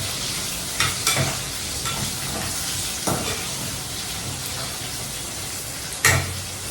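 Chopped onions frying in a pan at home, a steady close sizzle with a few sharp stirring clacks and scrapes, no talking.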